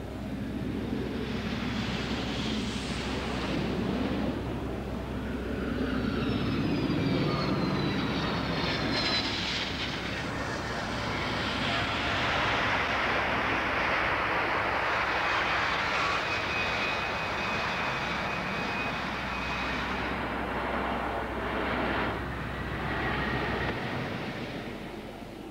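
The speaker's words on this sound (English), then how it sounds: "This is the Russian champion flying a plane specially designed for aerobatics." A plane specially designed for aerobatics, flown by the Russian champion at the 1988 Australian Bicentennial Airshow, drones loudly and continuously for the whole stretch, its engine note swelling, whining and shifting as it manoeuvres overhead, then easing at the end.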